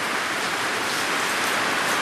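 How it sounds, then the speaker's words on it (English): Steady rain falling during a storm, a dense, even hiss of drops that fills the whole stretch without pause. "How long do you think it's gonna rain for?"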